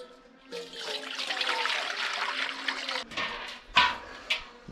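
Water poured onto hot coals in a smoker, a loud rushing hiss and sizzle lasting a few seconds, then fading into brief spurts and sputters.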